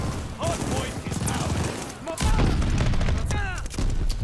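Rapid gunfire in Call of Duty Vanguard, dense bursts of shots and booms in a chaotic firefight, with someone talking over the shooting.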